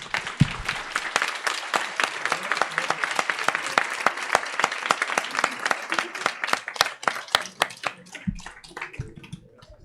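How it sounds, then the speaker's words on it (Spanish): Students at a research congress inauguration applaud steadily in a hall, dense sustained clapping that thins out toward the end. "Muchachos, dense un aplauso, por favor."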